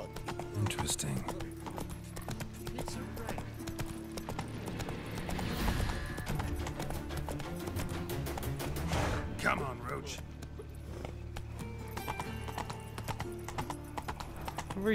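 Horse hooves clip-clop in a steady galloping rhythm in The Witcher 3 video game, loud and close throughout, over game music with an occasional whinny.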